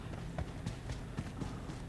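Horse hooves clip-clop in a steady trotting rhythm in the PUBG Mobile video game, faint under continuous game background noise, with no speech.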